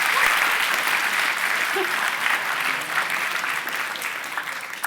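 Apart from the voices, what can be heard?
audience applause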